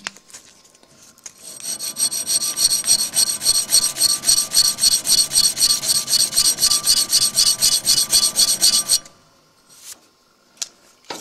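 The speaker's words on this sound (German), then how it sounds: "Ich schleife es mit 150er Papier oder Feile." A folding knife part is rubbed back and forth with 150 grit sandpaper or a file in a fast, even rhythm of close rasping strokes lasting several seconds, then a few isolated knocks.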